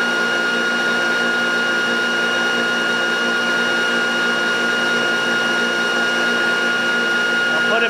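Electric bike motor running in regenerative acceleration mode, a loud, steady electric whine with sustained tonal hum, unchanging throughout.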